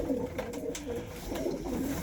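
Cockbirds and hens coo together in a pigeon loft, a continuous low warbling chorus of several birds close by.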